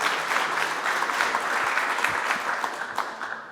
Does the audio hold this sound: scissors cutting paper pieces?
no